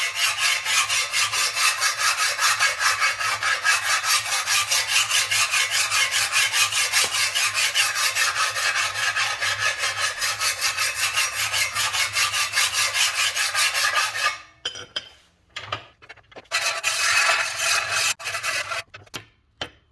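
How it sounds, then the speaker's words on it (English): Steady, rhythmic rasping of a hand file scraping across the pitted metal grille bottom of a 1930s car or truck, close and continuous, then a few broken strokes with short pauses near the end. "I went over this lightly with the file here"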